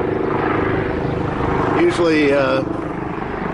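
A helicopter landing at an airport gives a steady, broad rotor and engine drone throughout, with a voice speaking over it.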